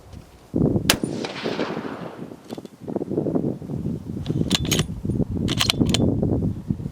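A Howa HS Precision 1500 rifle in .300 Win Mag is fired at a 100-yard range. A loud, sharp report is followed by a decaying rumble and then scattered clatter and handling noises.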